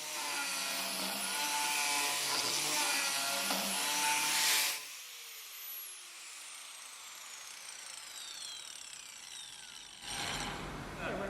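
An Arbortech Mini Turbo power carver bites into wood with a loud, gritty grinding buzz for several seconds, then cuts off and whines down as the spinning disc slows, before a short burst of renewed cutting at the end.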